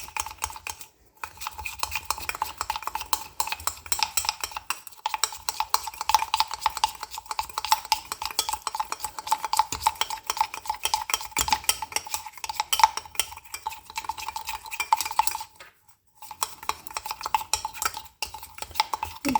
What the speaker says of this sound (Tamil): இப்போ அந்த சுகர் அண்ட் காஃபி பவுடர் நல்லாவே மிக்ஸ் ஆகிடுச்சு